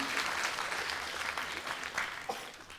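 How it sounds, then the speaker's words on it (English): An audience applauds at a Hiri Moale 50th anniversary sponsors night, a steady wash of many hands clapping, moderately distant and even throughout. "Please give a big round of applause"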